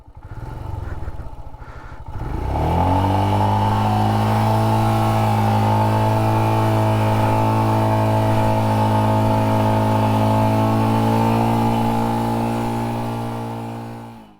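A motorcycle with a failed clutch plate revs loudly up close, its engine rising to a strained, steady high-pitched drone and holding there before cutting off.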